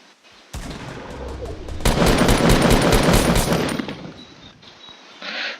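Rapid automatic gunfire from a Fortnite Battle Royale match, a long sustained burst of shots that swells louder midway, then thins out into scattered reports, with no talk over it.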